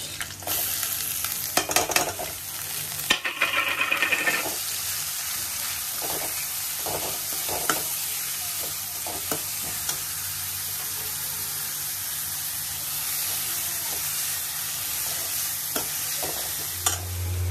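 Onions fry in a hot pan with a steady, loud sizzle throughout, while a spoon scrapes and stirs with occasional knocks, mostly in the first few seconds and again near the end.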